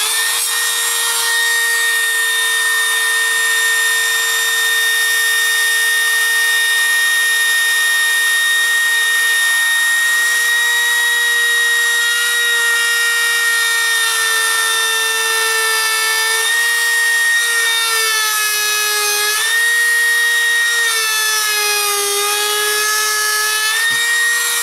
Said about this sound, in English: I'm very gently, I'm not going to drill all the way down to the 1/8 inch thickness